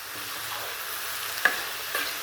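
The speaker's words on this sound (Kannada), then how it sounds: "ಇದು ನೋಡಿ, ಚೆನ್ನಾಗಿ ಎಣ್ಣೆಯಲ್ಲಿ ಫ್ರೈ ಆದರೆ ಚೆನ್ನಾಗಿರುತ್ತೆ ಪಲ್ಯ." Beans palya with moong dal and cabbage frying in oil, a constant crackling sizzle close up with two sharp stirring knocks near the end, no voices.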